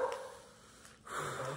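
Dogs at a Hanuman temple at night bark in a few short bursts with a whimpering yip, at moderate distance among background noise.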